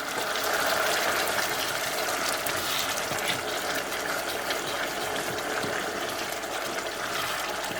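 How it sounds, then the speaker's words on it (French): Broth is poured into a zucchini risotto, a continuous bright splashing and sizzling hiss that stays even and fairly close for the whole stretch. "je vais de temps en temps rajouter un peu de bouillon"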